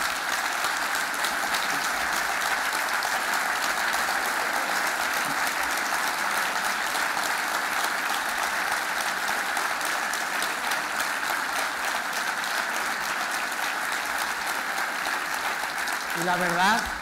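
An audience at a banking convention applauds in a long, dense, steady burst of clapping that holds evenly throughout and tapers slightly at the very end.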